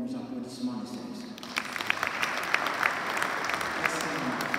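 At a funeral in Brussels, a crowd bursts into steady applause that builds and continues, with a voice speaking before the clapping starts.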